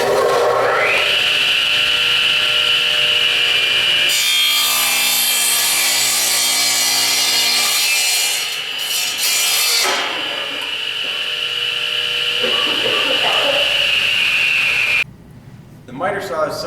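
A radial arm saw cuts through wood, its motor whining steadily as the blade bites in with a loud rasping, grinding roar that rises mid-cut, then eases back to a spinning hum before winding down.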